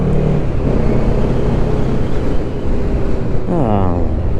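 A MASH K750 sport motorcycle engine drones steadily while riding, loud and continuous under heavy wind noise, with a brief rising rev near the end.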